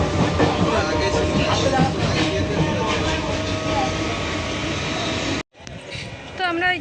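A train pulls out from a suburban station near Ichhapur in West Bengal, giving a loud, steady rumble and rattle of wheels on rails that briefly cuts out near the end and then resumes.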